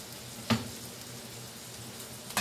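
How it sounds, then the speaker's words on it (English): A steady sizzle of frozen bell peppers frying in a hot pan, with two brief louder bursts of spitting and crackling. "That's why you hear that sizzle."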